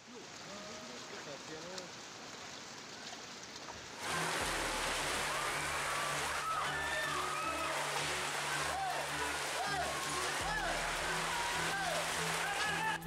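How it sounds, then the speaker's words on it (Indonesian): Heavy rain driven by strong wind pounds a village in Maros, South Sulawesi, a dense hissing downpour that swells suddenly louder partway through, with a low steady drone underneath and a reporter talking over it. "Hujan deras disertai angin kencang melanda desa Purnakarya, Maros, Sulawesi Selatan."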